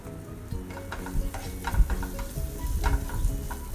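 Chopped curry leaves sauté in a pan, a close, crackling sizzle broken by repeated scrapes and clicks of a spatula stirring, with no talking.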